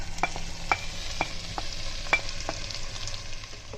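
Meat and prepared ingredients being stirred together inside a pressure cooker, with a series of sharp scraping and clinking strokes of a utensil against the pot over a faint sizzle, close and fairly quiet, no talking.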